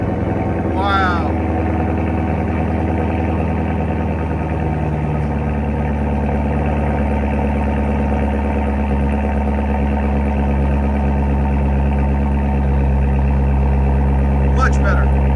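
A 2019 Chevy Corvette Grand Sport with a 6.2L V8 and straight pipes idles with a deep, constant rumble throughout, close and loud, with a brief voice and a whistle over it.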